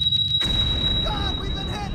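A torpedo strikes a submarine in the 688(I) Hunter/Killer naval game: a sudden heavy, rumbling boom rolls in and fills the low end, then holds as a dense, roaring, sustained blast for the rest of the moment.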